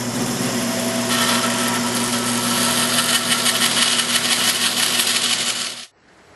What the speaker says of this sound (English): I just want to run my bandsaw along one edge and then the other.